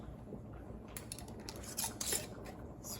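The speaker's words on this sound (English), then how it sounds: "I'm gonna put our lid on." A metal canning lid set onto a glass jar: a few light clinks and scrapes of metal against glass, close and quiet, with no talking.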